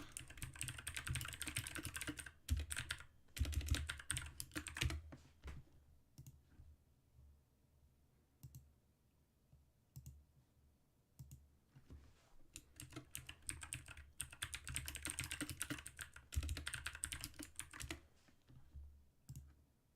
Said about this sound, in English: Bunch of clicking.